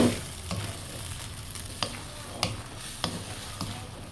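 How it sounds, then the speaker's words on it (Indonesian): Shrimp and bitter melon stirred in a sizzling pan, a soft steady fry hiss punctuated by regular spatula scrapes and taps about every half second, close up with no voices. "Diaduk-aduk sampai merata apalagi ya."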